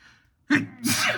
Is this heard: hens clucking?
no